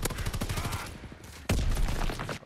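Gunfire in the World War II shooter Call of Duty WW2 during an online match with snipers: rapid bursts of loud, close shots in quick succession, then a sharp heavy report that starts a second burst.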